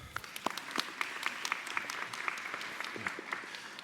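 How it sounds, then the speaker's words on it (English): Convocation audience applauding for a graduate speaker in a hall, a steady dense patter of many hands clapping close by, with no talk over it. "Another applause for Joshua."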